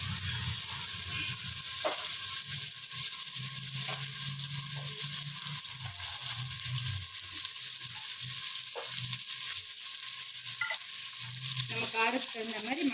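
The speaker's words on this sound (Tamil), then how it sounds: "புதினா தலை, மல்லித்தலை, பச்சை மிளகாய், தக்காளி போட்டு நல்லா வணக்கணும்." Greens, mint, coriander, green chillies and tomato sizzle and are stirred in a hot pan for biryani semiya, a steady close frying hiss with occasional scraping stirs and clinks throughout, no voices.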